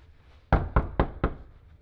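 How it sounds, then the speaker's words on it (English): Four sharp, close knocks land on a bedroom door in an even rhythm, with a quiet pause before them. "Ooh, can I knock? I'm gonna knock."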